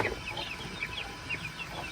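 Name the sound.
chickens and chicks clucking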